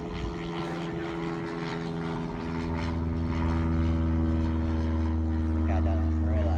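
A propeller airplane landing at Naples Airport drones steadily with a low engine hum that swells slightly louder partway through, heard from fairly close.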